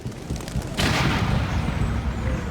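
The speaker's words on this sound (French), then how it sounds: "c'est juste avant cette grosse explosion sur la ligne à haute tension" A large explosion on a high-voltage power line erupts suddenly as a loud, deep boom, then rolls on as a sustained rumbling roar with no voices.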